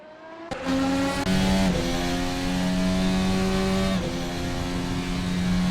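A race car engine at Sepang in a racing game drones steadily from an onboard view, holding high revs with brief shifts and dips in pitch, loud and close, with no voices.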